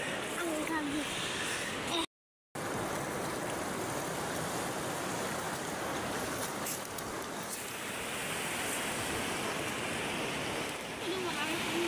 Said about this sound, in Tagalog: Grabe lakas ng alon mga kaprobinsya